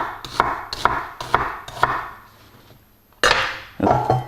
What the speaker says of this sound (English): in order to cut it up into tiny little squares to mince it.